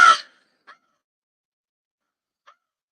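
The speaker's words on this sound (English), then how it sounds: "You already know when you hear the crow." A pet bird lets out one short, loud crowing call up close, followed by two tiny faint chirps in otherwise near silence.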